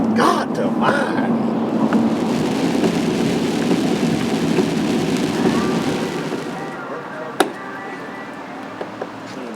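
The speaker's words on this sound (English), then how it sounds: "It's raining now. Yeah, we got into a little bit of rain" Rain falls steadily on a fishing boat fitted with a cover during a bass tournament trip on Lake Conroe, a dense, continuous patter that eases after a few seconds, with a sharp knock near the end.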